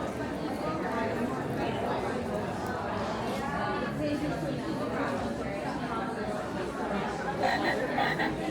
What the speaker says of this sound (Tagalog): May tunog pang ano, palaka.